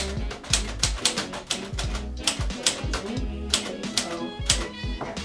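Fingers tap irregular, crisp strokes on a keyboard, close and fairly loud, with brief pauses between bursts.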